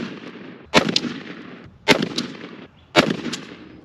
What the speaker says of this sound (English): So let's get shooting.